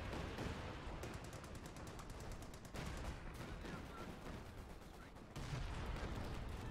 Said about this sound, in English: Katusha coming in and doing some nice rounds.